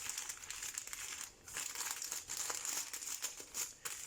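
A wrapped food delivery order being unwrapped, loud close crinkling and crumpling of plastic or paper packaging in uneven bursts with brief pauses, no speech.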